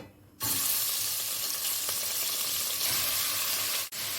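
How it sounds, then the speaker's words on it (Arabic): Beef sautéing in ghee in a pot over medium-high heat gives a loud, steady sizzle that starts abruptly and continues with crackling and stirring, with a brief dip near the end. "وهشوح فيها كده بقى مقدار اللحمة اللي معايا"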